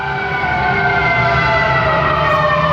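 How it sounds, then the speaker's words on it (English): A loud fire truck siren blares continuously, close and steady with a droning wail and rumbling engine underneath. "Fire truck, y'all hear them? I hear that fire truck."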